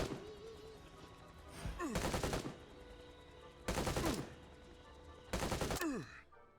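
Three bursts of rapid automatic gunfire from minions fighting in Evil Genius 2, each volley about a second long and loud against a background of game music and ambience.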